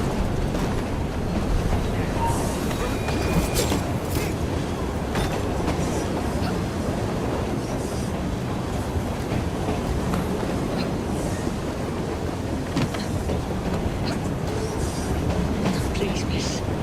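Train rolling on rails in Assassin's Creed Syndicate, a continuous loud rumble with clattering wheel noise, steady throughout.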